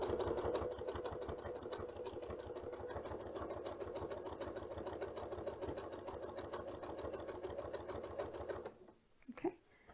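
A sewing machine stitches binding onto fabric in a fast, even, rhythmic run for several seconds, then stops, followed by a few faint handling sounds.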